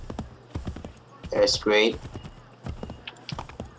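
Horse hooves clip-clop at a steady trotting rhythm in the video game Assassin's Creed III, with someone briefly talking over the hoofbeats.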